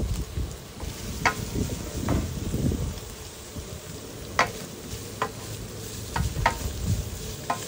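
Boiled ground pork added to sautéed onions, frying in a pan with close, soft sizzling under scattered clinks and scrapes of stirring.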